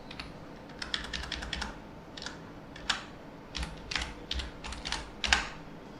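Fingers tap out a Linux command on a computer keyboard, quiet close clicks in short irregular bursts with brief pauses between words, no voices.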